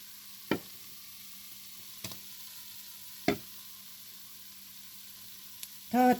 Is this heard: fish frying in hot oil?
yes